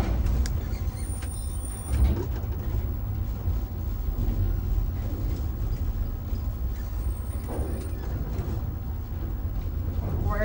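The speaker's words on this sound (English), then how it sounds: "Going into the ferry right now. I am driving." A motorhome driving into a ferry from Port Angeles bound for Victoria, with a steady low engine and road rumble inside the vehicle and faint clanks and rattles on top.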